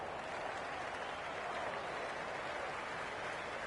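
A cricket video game crowd in Cricket 26 roars and applauds in a steady, dense wash of noise that holds throughout without a break.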